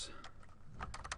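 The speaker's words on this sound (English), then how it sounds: "You can type your title." Quick bursts of typing on a computer keyboard, a handful of close, light key clicks in uneven clusters over a quiet background.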